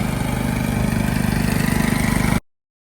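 A mowing machine engine runs with a steady, throbbing rhythm, loud and close, then cuts off abruptly, leaving silence.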